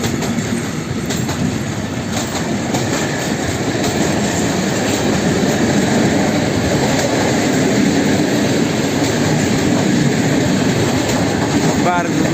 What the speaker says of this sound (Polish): w kierunku Skierniewic mega dużo wagonów to jest towarowa obwodnica Warszawy